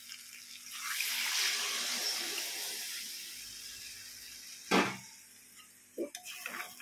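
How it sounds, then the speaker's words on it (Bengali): Milk-boiled water is poured into a pan of frying chicken, making a broad sizzling hiss that swells and fades, followed by a sharp metal clank and a few lighter utensil knocks nearby. "এখন জলটা দিয়ে দেবো।"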